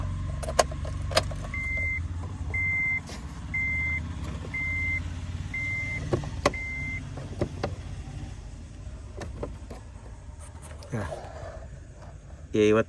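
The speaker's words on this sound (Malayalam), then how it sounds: "ഓട്ടം കാണിച്ചത് അതാണ് അതിൻ്റെ ഓട്ടം" A 2017 Honda Amaze automatic idles with a steady low engine hum, joined by a string of evenly spaced electronic beeps and sharp clicks, while people talk nearby.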